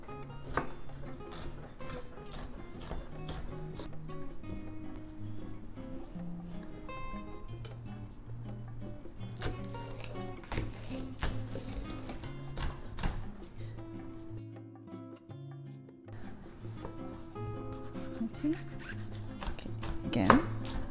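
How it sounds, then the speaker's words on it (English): Rapid, steady knife chopping of bell peppers on a cutting board, quick repeated taps running throughout with a brief pause near the end, under background music. "I'm going to start from chopping the bell peppers that is here."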